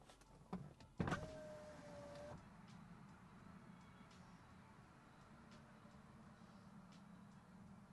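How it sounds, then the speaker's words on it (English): A couple of clicks, then a car's power window motor whirs for about a second, stopping with a soft thunk before quiet background hum and faint ticks. "Let me wind down the window"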